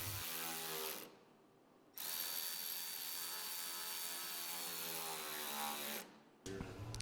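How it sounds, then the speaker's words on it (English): A flathead screwdriver or socket turns to tighten the factory hose clamp on a Polaris RZR RS1 cage, a buzzing whirring tool sound running steadily with two brief drops, close by and fairly loud. "Make sure to tighten this down using a flathead screwdriver or a socket."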